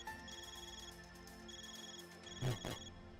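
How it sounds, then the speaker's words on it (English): Xipha phone ringing in the video game Trails through Daybreak, a repeating electronic ringtone of bright pulsing tones, faint and mixed with game music, with a short louder burst near the end. "Your Zypha's ringing, man."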